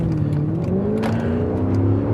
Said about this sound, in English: let's give it a bit of a rip here.